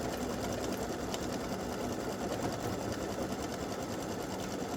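Sewing machine running continuously at a steady fast rhythm while working a satin stitch for an appliqué, a close, even mechanical whir and chatter with no talk.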